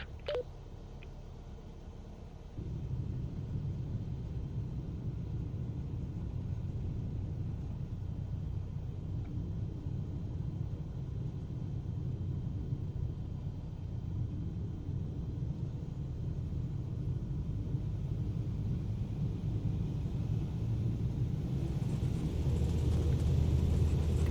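An airliner in Microsoft Flight Simulator 2024 rolls for takeoff on runway 11, a steady low engine rumble building in a continuous roar that grows slightly louder toward the end, with no talking.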